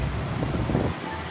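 A heater blower pushing out hot air, giving a steady broadband rushing whoosh, loud and close throughout the short stretch, easing slightly at the end.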